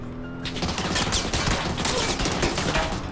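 Rapid gunfire crackles from a battle royale video game, a dense continuous fusillade of shots close and loud across the whole stretch, with no talk.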